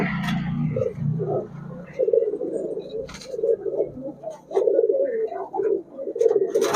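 Highflyer Giribaz pigeons at a bird shop coo repeatedly in low, throaty bursts, close by, with a few sharper chirps and brief background noise between calls.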